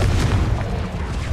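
A Confringo blasting spell from Hogwarts Legacy erupts as a heavy, continuous low boom, loud and close, rumbling steadily without a break and with no voices over it.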